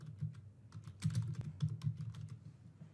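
Steady clicking keystrokes on a computer keyboard, close and fairly quiet, in a quick even rhythm with no talk.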